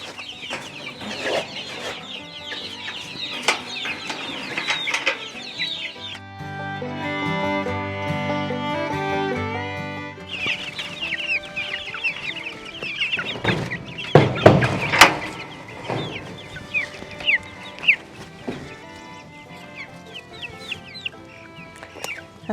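Young Cornish Cross and Buff Orpington chicks cluck and peep in a chicken tractor on grass, a busy chorus of overlapping calls with a few louder bursts, no talking.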